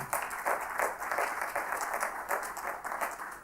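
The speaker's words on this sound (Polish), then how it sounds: "Brawa raz jeszcze dla państwa." An audience at a university event in Rzeszów gives a round of applause, a fairly quiet, steady ripple of many hands clapping with slight swells, heard from a distance and without talk.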